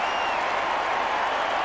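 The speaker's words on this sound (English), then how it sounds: "And the crowd's going absolutely ballistic." A stadium crowd at Subiaco cheering an AFL goal, a dense, steady roar of cheers and applause that fills the whole moment with no break.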